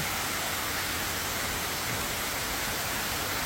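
An artificial waterfall inside a coffee shop at a Bangchak petrol station in Ubon Ratchathani pours in a steady, even rush of water that fills the whole stretch, with no voices.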